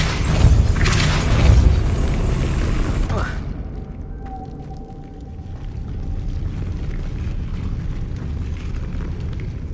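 Depulso force spell cast in Hogwarts Legacy on PS5, a loud booming burst with rumbling impact that cuts off abruptly after a few seconds, leaving a quieter hum and faint mechanical ticking.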